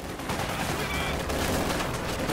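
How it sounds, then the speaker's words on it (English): Strafing run gunfire in Company of Heroes 2 rattles as dense, continuous automatic fire and impacts, loud and sustained, with commentary talk over it. "Strafing run going in there"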